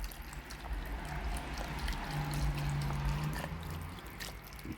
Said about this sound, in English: Pour that beef broth in there.